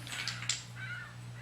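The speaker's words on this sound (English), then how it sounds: "Look, that's birds." Crow-like cawing from birds: a few short, harsh calls over a steady low hum, moderately faint, with no talking.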